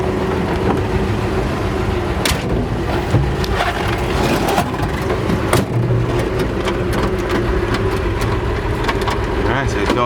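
A 1948 Chevrolet 3100 half-ton pickup with a 216 six-cylinder engine runs steadily with a low rumble and some rattling, while people talk nearby.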